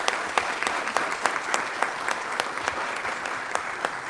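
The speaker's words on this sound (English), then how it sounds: "I'd like for you all to give them a round of applause" Steady applause at a Newton County government meeting, with a crowd clapping continuously and some distinct sharp claps rising above the wash throughout.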